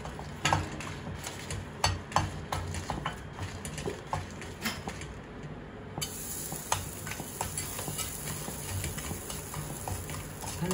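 Lentils and spices dry roasting in a pan for idli podi, a soft steady crackle with frequent light scraping stirs and small clicks, close and fairly quiet throughout.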